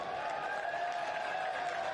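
A home crowd at Covenant Park roars during a One Knoxville SC soccer match against Charlotte Independence, right after a big collision and a yellow card. The cheering and applause is dense, steady and loud for the whole stretch.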